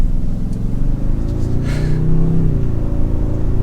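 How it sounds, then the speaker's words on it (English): A pickup truck's all-new twin-turbocharged engine pulls hard through a many-geared transmission, a loud, steady low rumble that rises in pitch as the truck gathers speed, heard from inside the cab. "we have the all-new twin turbocharged engine with a lot of gears in this transmission"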